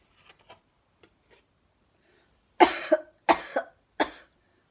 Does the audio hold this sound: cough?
yes